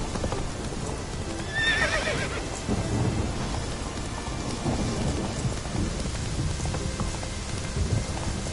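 In The Witcher 3, the horse Roach gallops with steady clip-clopping hooves and gives one sharp whinny, all set against rain and rumbling thunder.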